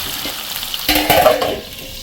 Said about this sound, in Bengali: আলু চাইকে নুন দিয়ে তো ভাজতে দিয়ে গেলাম